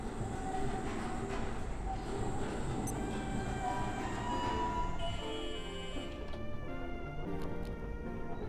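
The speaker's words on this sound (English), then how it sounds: "I don't actually remember what tram this is." A tram arriving in the video game Abiotic Factor, a continuous loud rumbling rail roar with metallic screeching tones and brief clanks toward the end.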